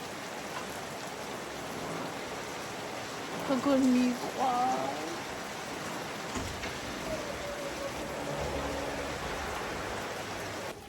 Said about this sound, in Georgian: წვიმს ხალხო მთელი ღამე ისე ლამაზად